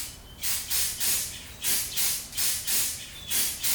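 Carburetor cleaner sprayed onto a Toyota Prius intake manifold in rhythmic bursts, about seven loud hissing sprays in quick succession, close up and alone.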